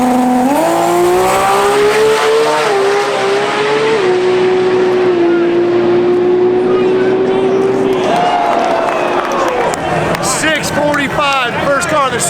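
Race car at the TX2K drag racing event accelerating hard, a loud rising engine roar that shifts through gears before fading under crowd noise and a loudspeaker announcer.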